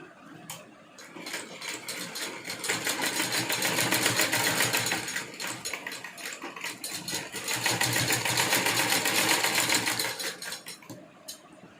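Sewing machine stitching the hem of a small doll's dress for a Laddu Gopal idol, a loud, steady mechanical whir that runs in two long bursts with short slowdowns between, close to the mic and with no talking.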